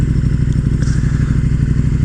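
A 2018 KTM 1290 Super Duke R engine runs steadily at idle, a loud, close, rhythmic low throb with slight mechanical clatter throughout.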